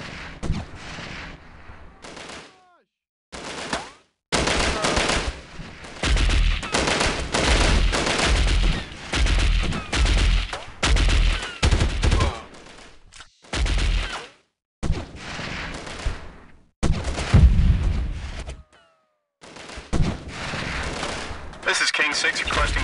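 Gunfire and artillery rounds in a 1998 Delta Force video game mission in Uzbekistan, loud bursts and booms in rapid uneven clusters separated by brief silences, with radio-style voices talking between them.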